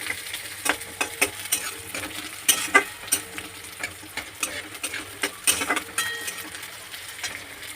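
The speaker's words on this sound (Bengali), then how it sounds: "পেঁয়াজটা দেখো হালকা হালকা ভাজা হয়ে গেছে" Onions and green chillies sizzle in a pan as a spoon stirs and scrapes repeatedly, close up with steady frying underneath.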